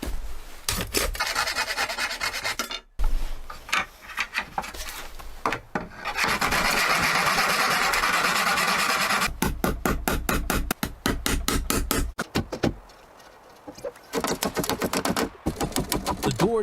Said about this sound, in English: Scoring the glass creates a microscopic fracture line.